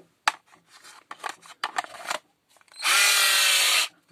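An Einhell BT HD 14.4 cordless hammer drill on a dying battery spins up for a single sustained whir of about a second, after a few scattered knocks and handling clicks from nearby.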